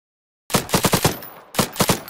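Rapid gunfire from a first-person weapon in a Roblox game, two quick bursts of four and three loud sharp shots separated by a brief pause.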